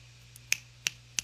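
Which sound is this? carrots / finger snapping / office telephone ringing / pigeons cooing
finger snapping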